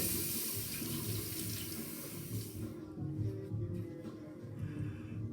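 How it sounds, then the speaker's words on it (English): A tap runs water into a sink for rinsing, a steady close splashing flow that softens partway through, with no talk. "I'm going to rinse first."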